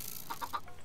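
Chicken clucking in a blocky survival video game, three or four short quick clucks in a row at moderate volume, heard alone without talk.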